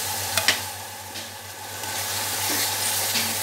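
A small splash of water hitting oily spice paste in a pan for rohu fish curry, giving a loud, steady hiss and sizzle close up, with a few faint stirring knocks.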